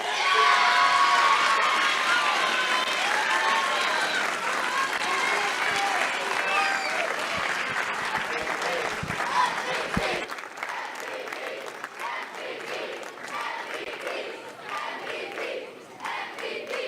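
Audience applause and cheering fill a youth boys basketball award ceremony at a parks and recreation event, a dense sustained roar of clapping with shouts that eases slightly partway through but carries on to the end.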